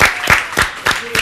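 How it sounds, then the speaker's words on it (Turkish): Five loud, evenly spaced handclaps, close and sharp, as a small group applauds on a TV entertainment show. "Alkışlayalım"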